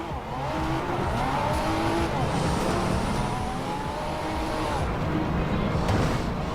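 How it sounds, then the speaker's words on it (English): An AMG-built six-litre twin-turbo V12 hypercar in Forza Horizon 2 roars continuously at high revs, with rising and falling gear-change sweeps and tire noise, loud and close throughout. "It's a 6-litre twin-turbo V12 engine made by AMG."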